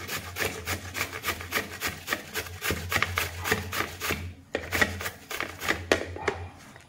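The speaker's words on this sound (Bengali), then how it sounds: "দেখো এইভাবে আমি পুরোটা কুমড়ো গ্রেট করে নিব।" A whole yellow pumpkin being grated by hand for halwa: a rapid, rhythmic series of close, scraping rasps, roughly two strokes a second, with a brief pause partway through.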